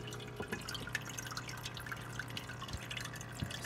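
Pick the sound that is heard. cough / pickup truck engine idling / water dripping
water dripping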